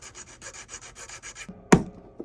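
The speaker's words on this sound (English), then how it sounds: "take a smaller file, come in here and just clean that up a little" A small hand file rasps over a heavy skull ring in steady back-and-forth strokes, then the strokes stop and a sharp metallic knock rings out near the end.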